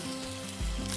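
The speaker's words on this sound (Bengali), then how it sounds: "তেল গরম হয়ে গিয়েছে, এরপর দিয়ে দিচ্ছি গোটা জিরে, গোটা সর্ষে, বিউলির ডাল, ছোলার ডাল, কাঁচা লঙ্কা" Whole cumin, mustard seeds, urad dal, chana dal and green chillies hit hot oil for tempering, giving a close, steady sizzle that swells louder partway through the brief moment.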